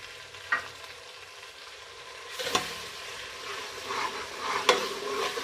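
A large, finely chopped tomato goes into a pan of frying onion, garlic and ginger for dhaba-style dal mash, giving a soft sizzle with scraping stirs and a couple of sharp utensil knocks.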